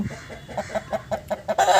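Bhimavaram breed rooster, 13 months old and about 3 kg, clucking in a steady series of short, close, rhythmic calls that grow louder toward the end.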